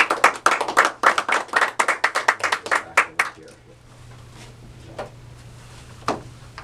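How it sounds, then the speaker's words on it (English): Crowd at a police union endorsement event claps in a brisk, dense burst for about three seconds, then the applause thins out into a few scattered claps against the room's background hum. "I want to give a round of applause."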